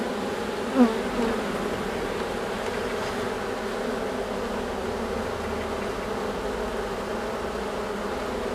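A dense, steady hum of many Caucasian honeybees buzzing close up on a comb, continuous and even throughout, with a faint knock early on.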